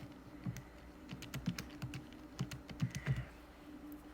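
Keys on a graphing calculator are pressed in a quick run of light, close clicks with short pauses between taps, with no voice.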